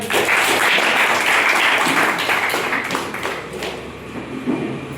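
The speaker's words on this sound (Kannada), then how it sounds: "ಸೊ ಆಲ್ ದಿ ಬೆಸ್ಟ್ ಚಪ್ಪಾಳೆ ಅವರಿಗೆ" An audience claps at a prize draw event, producing dense, loud applause that fades slightly toward the end, with no speech over it.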